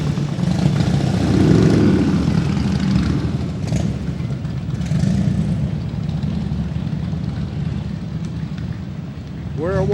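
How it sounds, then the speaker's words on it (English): VFW motorcycle riders rumble past in a Memorial Day parade in Westminster, a loud continuous low engine drone swelling and easing as they go by, with crowd noise mixed in. "some motorcycles, always very noisy but also very colorful"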